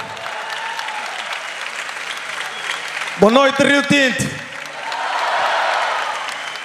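Audience applause at a Portuguese stand-up comedy show in Rio Tinto, rising as a steady wash of clapping around a man's greeting, then swelling again after he speaks.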